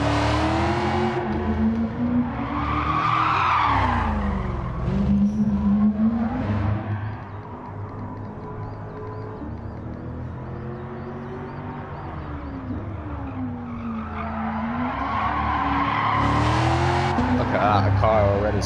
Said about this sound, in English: Look at that, a car already sliding.